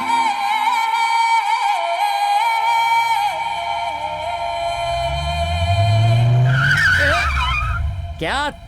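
A car engine revs hard while the car stays put, a sustained high whining drone that climbs into a loud skidding tire squeal toward the end, in a Kannada action film dubbed into Hindi.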